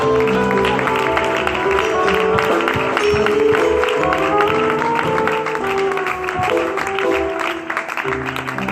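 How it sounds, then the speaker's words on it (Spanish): A church congregation applauds continuously and loudly, the clapping blending with music playing underneath throughout. "Dale ese aplauso a Dios, por favor."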